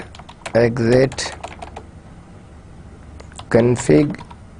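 Short bursts of computer keyboard typing as router configuration commands are keyed in, with clicks scattered through the clip and a person talking over parts of it.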